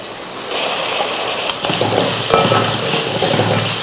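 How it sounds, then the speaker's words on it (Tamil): Soaked dried raw mango (vathal) with tomato is sautéed in a pan for kuzhambu: a soft frying hiss, then louder sizzling with stirring and scraping from about the midpoint, up close. "மாங்காய் வத்தல் ஊறிடுச்சு இதுலேயே சேர்த்து நல்லா வதக்கிக்கலாம்"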